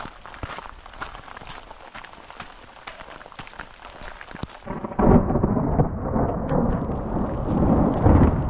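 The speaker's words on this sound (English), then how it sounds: "We are definitely starting to get some lightning and some thunder." Thunder rolls during a rainstorm beside a mountain meadow on a hike, a low rumbling swell that builds and lingers over steady rain and close footsteps.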